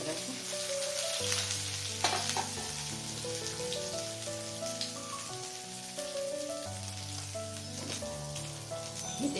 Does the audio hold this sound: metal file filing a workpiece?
no